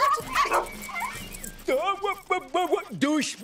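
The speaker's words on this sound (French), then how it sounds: "Gentil toutou, qui veut un bon biscuit pour chien?" A cartoon dog in an animated Strawberry Shortcake episode whimpers and lets out short yipping barks, rising and falling whines clustered in the second half after a stretch of quieter sounds.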